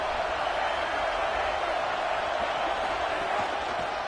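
A football stadium crowd at a Bruins game roars in a steady, dense wall of noise from start to finish, with no single voices standing out.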